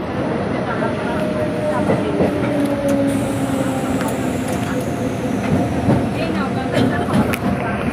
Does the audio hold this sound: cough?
no